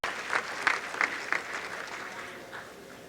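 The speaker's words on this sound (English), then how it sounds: "Give him a warm round of applause." Audience applause at a tribute event for Kwame Ture, a moderate crowd clapping with a few louder bursts early on that gradually thins toward the end.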